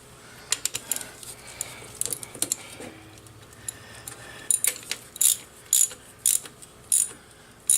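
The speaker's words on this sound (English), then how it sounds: "let's get a plug wrench on this, tighten this plug down a little bit better." A plug wrench tightens the small spark plug on a Kawasaki KLT 110 three-wheeler, making close metallic clicks and a run of sharp ratcheting bursts that grow more regular toward the end.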